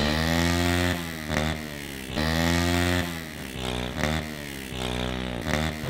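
Modified-exhaust motorcycle revving hard in repeated bursts, each throttle blip swelling into a raspy, buzzing roar and then dropping back, close and loud with no talk over it.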